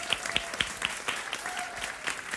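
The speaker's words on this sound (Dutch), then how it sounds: "mag ik een grote, grande applaus voor Pepe of Paco." Audience applause at a flamenco music theatre performance, a short burst of scattered clapping with distinct hand claps, moderately close, with faint voices beneath.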